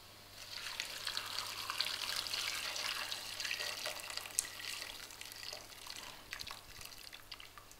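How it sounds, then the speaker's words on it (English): Hot water runs from a tap in a steady, splashing stream, with small drips and clinks against a sink, close by and moderately loud. "Hot water."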